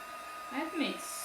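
A hair dryer drying a chalk transfer on a tea towel, heard as a brief rising and falling blow over a soft steady hiss, close but not loud and with no talk.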